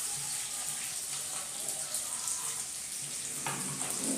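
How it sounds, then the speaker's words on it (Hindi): Chopped onion and chilli frying in a pan in a home kitchen give a steady, dense sizzle throughout, close and fairly soft, with a brief clink of stirring near the end and no talk. "प्याज भी डाल देते हैं।"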